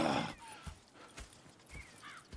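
Horses in the Red Dead Redemption 2 video game, with a loud burst of hoof clatter and a snort at the start, followed by scattered hoof clops and faint whinnies in a quiet outdoor setting.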